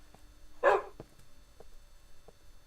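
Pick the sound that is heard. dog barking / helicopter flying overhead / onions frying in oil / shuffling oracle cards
dog barking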